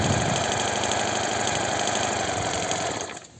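Stihl MS 462 C chainsaw idling close by at a slightly high idle, a steady buzzing drone that drops away and cuts out near the end.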